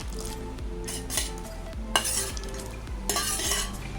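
Sautéed okra stirred into mor kuzhambu, a buttermilk curry, in a pot: repeated metallic scraping and clanking of a spoon against the vessel with a soft sizzling bed underneath, close and busy, no voices.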